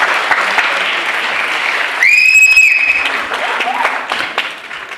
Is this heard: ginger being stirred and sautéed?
no